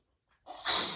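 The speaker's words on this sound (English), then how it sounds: "I'm gonna sneeze." A single sneeze bursts out after a moment of silence, a short sharp exhale with a breathy hiss trailing off.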